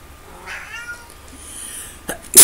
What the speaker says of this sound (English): This cat doesn't shut up.